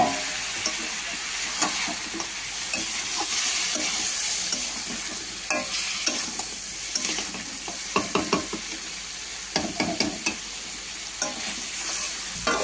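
Crab masala being stir-fried with a splash of water for a Bengali crab curry: a steady hiss and sizzle runs throughout, broken by repeated scraping strokes of a spatula against the pan, close and fairly loud, with no talk.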